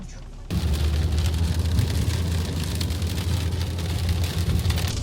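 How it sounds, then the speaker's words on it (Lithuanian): Light rain falling, a steady dense hiss of patter that starts abruptly and holds even, with a low rumble underneath and no one talking. "Bet šiaip lietus lyna."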